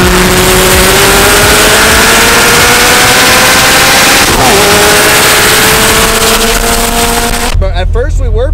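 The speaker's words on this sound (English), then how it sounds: "I got locked out of fourth and I just sent it on the limiter, holding it" Race car engine held screaming on the rev limiter after being locked out of fourth gear, a loud, steady, close drone with a faint stutter, cutting off abruptly near the end as a voice begins talking.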